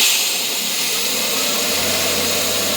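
Tack welding on a plate of unknown metal during a 240SX turbo engine install, a steady loud crackling buzz that runs unbroken with no pauses.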